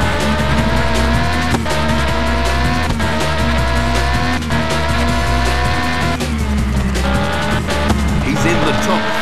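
Race car engine droning steadily with tire squeal in the PS1 racing game Test Drive Le Mans, loud and continuous with a commentator's voice over it.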